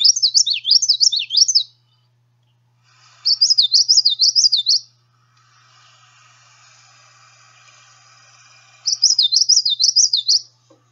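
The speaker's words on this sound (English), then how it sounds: "So I learned the song of the common yellow throat" Common yellowthroat singing its rolling, repeated phrase in three separate bursts, close and clear, with quiet gaps and faint hiss between.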